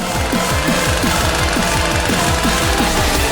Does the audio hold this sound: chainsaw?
yes